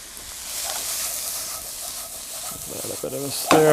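Corn kernels and zucchini sizzling in a hot frying pan, a steady broad hiss building through the clip with clatter of stirring and a louder burst near the end as food goes in.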